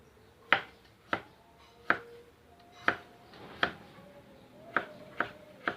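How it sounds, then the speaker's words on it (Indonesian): Shallots and chili peppers being sliced with a knife on a cutting board, producing about nine crisp, close chopping taps at an irregular, unhurried pace with quiet pauses between strokes. "selanjutnya kita iris-iris bawang merah dan cabai ya teman-teman"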